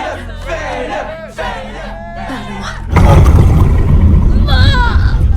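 A live audience breaks into loud cheering and crowd noise midway, sustained to the end, after a stretch of clear speech.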